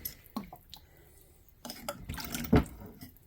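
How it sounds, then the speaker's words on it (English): Steel parts soaking in a bucket of vinegar are stirred, giving a few wet sloshing and dripping splashes, with a louder splash near the end, close by over quiet background. "We'll give the bucket a little stir."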